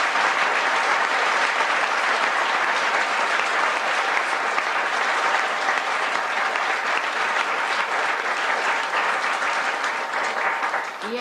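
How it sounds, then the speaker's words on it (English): Sustained audience applause rings out as an ovation for Yogi Mahajan at a Holi Puja gathering in New Delhi, a dense, steady clapping from a large crowd lasting throughout at even loudness before easing slightly at the very end. "Another person who has to be given a special ovation is Yogi Mahajan"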